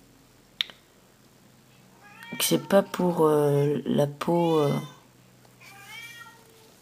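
A cat meows repeatedly up close, drawn-out wavering cries over a few seconds, with a brief spoken word nearby.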